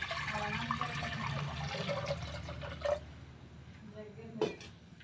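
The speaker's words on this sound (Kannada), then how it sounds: "ನಾನು ಇಲ್ಲಿ ಸ್ವಲ್ಪ ನೀರು ಹಾಕ್ಕೊತಿದ್ದೀನಿ" Water poured over leafy greens in a cooking pot, a running, splashing gush that fades toward the end with a couple of sharp clinks, voices faint beneath.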